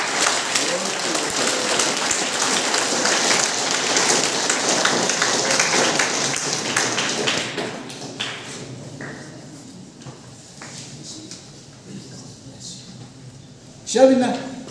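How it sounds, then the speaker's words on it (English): An audience at a pensioners' association gathering in Meghalaya claps hands in steady, dense applause for about seven seconds, then it fades out to a quieter room with scattered sounds and a brief louder burst near the end. "Shall we now again clap our hands?"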